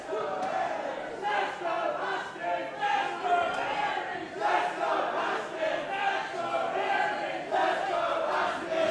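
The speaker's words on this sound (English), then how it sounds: "This crowd split right down the middle." Crowd at an independent pro wrestling show cheering and chanting, a loud rolling roar with rhythmic surges and shouts that rises and falls over the full stretch.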